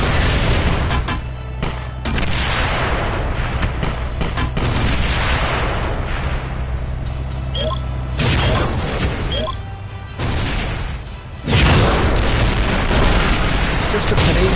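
Artillery fire and booming blasts from the League of War VR Arena video game, loud and sustained with repeated heavy impacts layered over a low droning game soundtrack.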